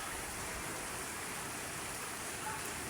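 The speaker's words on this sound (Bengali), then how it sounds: "এই যে দেখেন কি পরিমাণ বৃষ্টি হচ্ছে আজকে সারা দিন বৃষ্টি" Steady, dense hiss of heavy rain pouring down continuously, heard from a home balcony, an even wash of noise with no pauses or voices.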